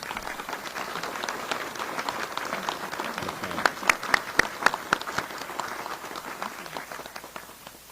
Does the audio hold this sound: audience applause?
yes